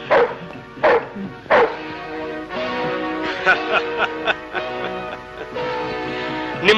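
A dog barks repeatedly in a 1985 Kannada film scene at a house gate: loud, close woofs in an irregular series, with some overlapping yips toward the end.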